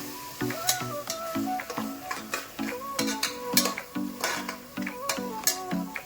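Masala with yogurt frying for mutton biryani, a soft sizzle under repeated rhythmic scraping and stirring of a spoon against the pot.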